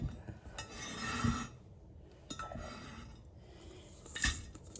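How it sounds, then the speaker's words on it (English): A 9 by 13 baking dish is handled for a blueberry icebox dessert, giving a few separate clinks and knocks spaced a second or more apart, close by and fairly quiet. "Now we're going to go in with our 9 by 13 baking dish"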